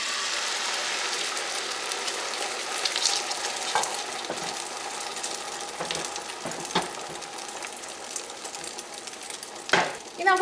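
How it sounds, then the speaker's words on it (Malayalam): Beaten egg frying in hot oil in a pan, a steady close crackling sizzle that runs the whole time with light scrapes and a couple of sharper clatters near the end, no voices. "എണ്ണ നന്നായിട്ട് ചൂടായിട്ടുണ്ട്. ഇതിലേക്ക് ഏറ്റവും ആദ്യം നമ്മൾ ബീറ്റ് ചെയ്ത് വെച്ചേക്കണം മുട്ട ചേർക്കാം."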